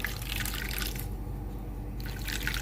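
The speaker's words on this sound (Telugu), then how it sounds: "లాస్ట్గా వాటర్ వేస్తున్నాను" Water is poured into a brinjal and mutton curry cooking in a pot, a soft continuous trickling splash that pauses briefly and resumes, with no talk.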